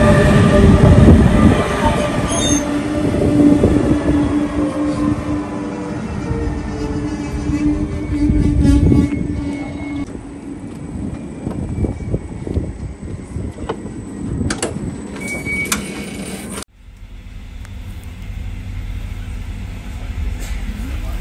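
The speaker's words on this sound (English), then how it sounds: "Is the train coming?" A train rumbles into a station, loud and close, its heavy roar and rattling wheels building and then easing off, with faint squeals and a sudden drop in noise near the end.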